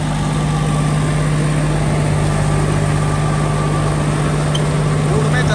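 A new John Deere 5050D tractor runs with a new Shaktiman rotavator in a field, a loud steady low engine drone with a strong hum and constant vibration throughout, no pauses.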